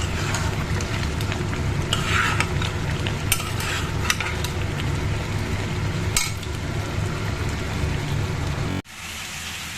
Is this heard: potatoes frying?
yes